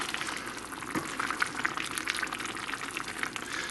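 Chicken thighs with sauerkraut and red cabbage simmer in a pot as the sauce reduces, giving a steady soft bubbling hiss with small scattered pops throughout, fairly quiet and without talk.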